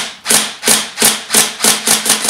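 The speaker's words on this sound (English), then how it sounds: "You are able to dry fire the gun by holding down the bolt release though." A Tokyo Marui Recoil Shock M4 airsoft gun dry fires in a quick series of about eight sharp, loud, mechanical clacks, evenly spaced and close, with no other sound.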